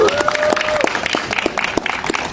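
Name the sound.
audience applause for Mbak Nunung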